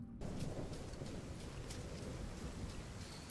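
Steady rain with a low thunder rumble plays in the video game Escape Dead Island, as a soft, continuous hiss over deep background rumbling with no voices.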